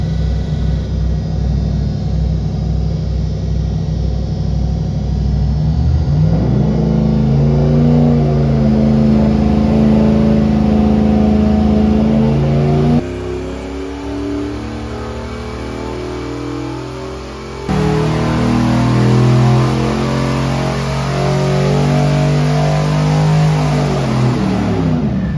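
Turbocharged LS engine with a GTX3584RS turbo running on a dyno, roaring through long, loud revving pulls that climb in pitch, briefly drop off partway, then build again.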